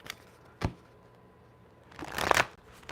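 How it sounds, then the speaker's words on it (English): Oracle cards being shuffled by hand, with a few quick riffling bursts: a short flick, a brief pause, then a louder clustered shuffle, close and quiet with no voices. "Let me get this a quick shuffle."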